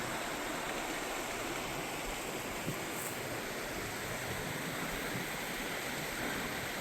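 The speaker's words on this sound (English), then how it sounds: "A waterfall right there." A waterfall in a cold forest setting, a steady broadband rushing roar heard continuously and evenly from moderate distance, with no voices over it.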